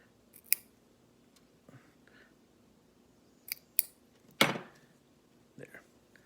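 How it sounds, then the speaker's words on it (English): Scissors trim the tag ends of a knotted fishing line, a few sharp, crisp snips spaced apart in a quiet room, one louder cut near the middle, with brief soft handling noises between them. "trim your tag ends"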